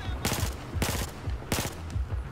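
Grenade launcher fire in the Battlefield 4 campaign booms out in three heavy, evenly spaced bursts, each blast loud with a rumbling tail, no talk over them.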